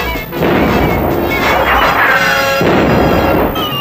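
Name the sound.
cartoon cannon and gunfire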